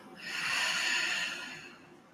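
A single long exhale, soft and breathy, swells and fades over about two seconds during a yoga session, close and alone without speech.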